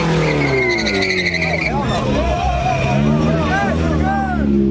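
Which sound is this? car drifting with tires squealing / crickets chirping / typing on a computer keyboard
car drifting with tires squealing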